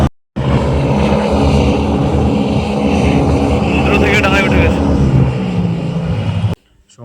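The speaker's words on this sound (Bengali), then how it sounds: "পুরো হোভারক্রাফটটা উঠছে, ডাঙায় উঠে যাচ্ছে, ডাঙায়।" A hovercraft comes ashore from the sea at Gangasagar, its loud, steady engine and fan roar filling the scene up close, with a voice speaking over it before it cuts off abruptly.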